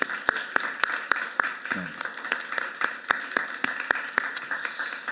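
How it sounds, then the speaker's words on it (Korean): A church congregation claps in a Korean Sunday service after a choir's hymn, giving sparse, separate claps spaced roughly evenly across the clip, with a short low vocal sound in the middle. "우리 한번 격려의 박수 한번 합시다"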